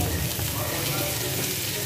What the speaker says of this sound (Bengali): পেঁয়াজটা আমি হালকা একটু ভেজে নেব।